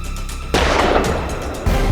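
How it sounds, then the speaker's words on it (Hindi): A loud, booming blast bursts out after a steady rumble, followed by a second heavy thump, like gunfire in a dramatic scene. "जिस समय मैंने गोली चलाई"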